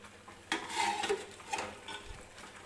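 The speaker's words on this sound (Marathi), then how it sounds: "त्या कुकरमध्ये हा टोप ठेवून घेते" A metal pot is set down inside a pressure cooker with a sharp clank, followed by a few lighter metallic knocks and scrapes close by.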